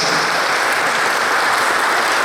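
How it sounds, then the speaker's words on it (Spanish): Loud, steady audience applause for an author at a novel presentation in a restaurant, a brief burst of dense clapping from a crowd. "a quien le regalamos por favor un fuerte aplauso por este gran regalo literario que nos hace"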